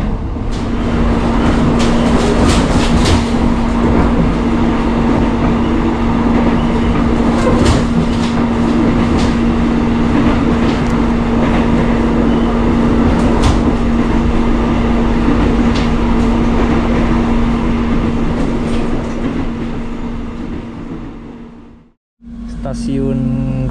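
Inside the Soekarno-Hatta to Manggarai airport rail link train, a loud, steady rumble of wheels and carriage fills the cabin, with a constant tonal hum and faint clicks until it briefly drops out near the end.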